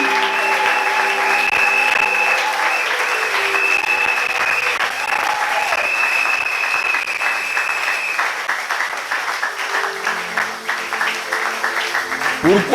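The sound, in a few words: congregation applauding in church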